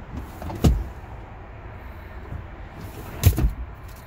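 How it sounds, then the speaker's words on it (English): Rear seats of a 2013 Ford Edge Limited folding down under power, two separate motorized whirs with thuds about three seconds apart, moderately close in a quiet cabin. "you can fold down the back seats with this"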